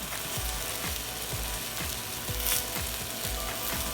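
Tomatoes, serrano chilies, onion and garlic cloves sizzling in an oiled pan, a steady crackling fry with regular scraping knocks from moving the ingredients, close and fairly loud.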